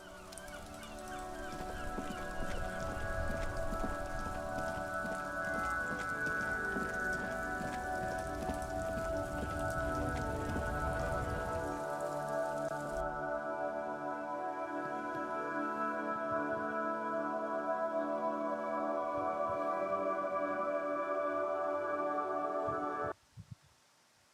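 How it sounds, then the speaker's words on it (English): Steady rain pours down in Disco Elysium, a dense, constant hiss that fills the scene for over twenty seconds before cutting out abruptly, with no voices over it. "This rain will not let up anytime soon."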